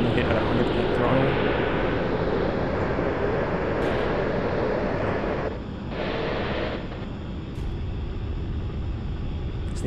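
Stealth fighter jet with afterburner in the flight game Nuclear Option, a loud, steady broadband roar that dips briefly partway through and then carries on, with a voice speaking underneath.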